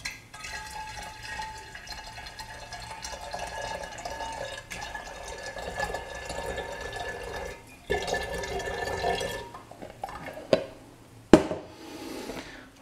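Campden tablet sterilising solution is poured into a glass demijohn, a long trickling, gurgling flow of liquid with splashes that swells and fades, ending with a few sharp knocks and clinks of glass.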